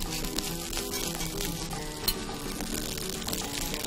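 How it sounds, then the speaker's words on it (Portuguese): Rice and egg fry side by side in a pan for Cantonese fried rice, a steady close sizzle with a few small clinks, no talk. "Enquanto coalha aí o ovinho, desse lado, do outro lado, o arroz fritando"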